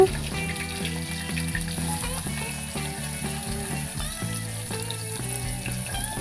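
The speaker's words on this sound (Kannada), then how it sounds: "ಹೆಚ್ಚಿಟ್ಕೊಂಡಿರ್ತಕ್ಕಂಥ ಉಳ್ಳಾಗಡ್ಡಿ ಉಳ್ಳಾಗಡ್ಡಿನ ಚೆನ್ನಾಗಿ ಬಾಡಿಸ್ಕೊಳ್ಬೇಕು" Onions fry in a pan with green chillies and curry leaves, sizzling steadily and close by over a sustained tonal hum, with no speech.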